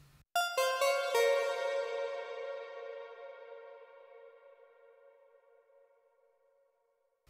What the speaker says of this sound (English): drag in another RV7000 reverb, and this time I'm going to keep the blend at around 50-50 with a really long decay time